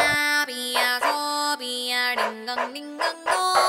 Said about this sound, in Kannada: ಅಯ್ಯೋ ನಾಯಿಗಳು ಕಾಟ ಆಗ್ತವೆ